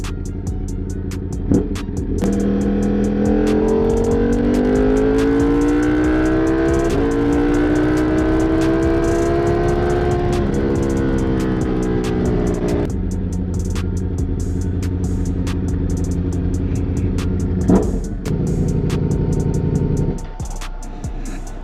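A Ducati motorcycle engine revs up and holds steady while riding, pitch rising through gears with wind rumble, loud and close, no speech.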